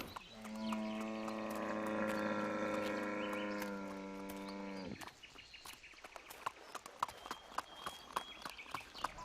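Horse hooves clip-clop in sharp, irregular knocks on hard ground in a historical drama scene, following a long sustained droning tone that cuts off abruptly.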